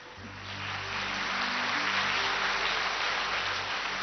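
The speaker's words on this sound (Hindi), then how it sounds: "भले ताली बजाओ" A crowd applauding, a dense steady wash of clapping that swells in and holds.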